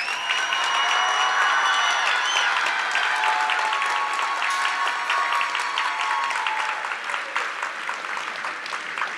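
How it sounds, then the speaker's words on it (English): Sustained applause and cheering from a large audience at a Linn High School graduation ceremony for the class of 2026, dense steady clapping with whistles throughout, no speech. "Let's give the graduating class of 2026 a round of applause."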